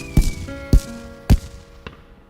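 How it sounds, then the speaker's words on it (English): Cartoon fireworks go off in three loud, sharp bursts about half a second apart, each with a brief ringing tail, followed by a fainter fourth pop as the sound fades away. "The fireworks are really loud"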